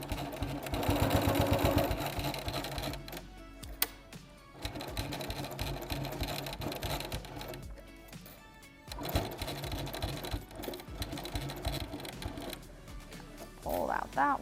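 A sewing machine stitching a spring fabric banner, with bursts of rapid mechanical whirring and needle chatter broken by short pauses as the fabric is repositioned, fairly close.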